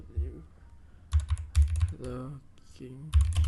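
Keys on a computer keyboard clatter in quick bursts as a sudo command is typed, close and crisp, alternating with someone talking.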